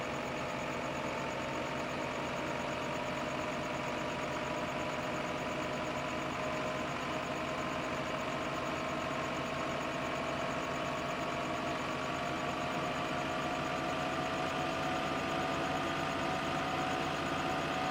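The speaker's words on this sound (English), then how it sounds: "It's expensive to have 2 tractors work at once." Tractor engines run steadily in the farming video game Farming Simulator 15, a continuous mid-pitched idling drone with a faint tonal whine, loud and unchanging throughout.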